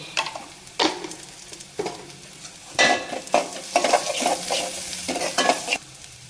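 Onions frying in oil alongside cauliflower, stirred with a utensil in a pan: sizzling with repeated scraping strokes, loud and close, no talking.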